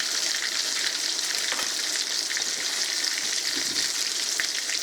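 Flipped cod fillets fry in a hot pan with a constant, even sizzling hiss that stays close and steady throughout, with no talk over it.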